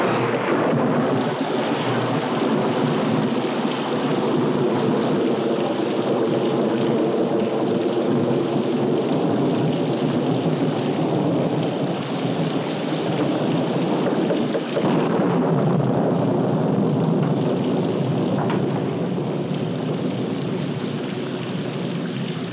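Heavy rain pours down steadily with dense, hissing patter, while thunder rumbles low beneath it and swells into a louder roll partway through, with no voices.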